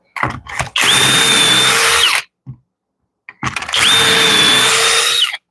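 A power drill whirs in two loud bursts of about a second and a half each, biting into wood, with short clicks and pauses between.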